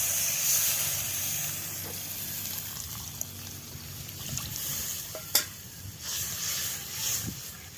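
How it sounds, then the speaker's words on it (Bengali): Water poured into a fried koi fish curry masala in a pan, giving a soft steady sizzle and hiss with faint stirring and one sharper clink, close and fairly quiet, with no talking. "এবার আমি জল দিয়ে দিচ্ছি।"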